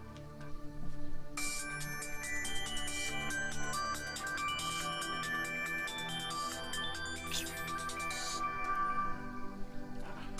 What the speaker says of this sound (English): is that not your phone ringing?